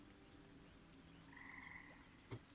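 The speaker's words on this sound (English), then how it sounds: "You hear a series of frogs out into the distance now." A series of frogs croaks faintly in the distance, a soft low chorus under quiet ambience, closed by one brief sharp click.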